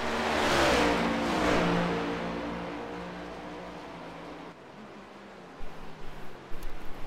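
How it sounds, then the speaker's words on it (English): A race car roars past on an oval track in a racing video game: a loud engine wash swells and fades, then quieter engine revving and surges follow near the end. "You hear Cormenis go by, the only other car that these guys can see on the track."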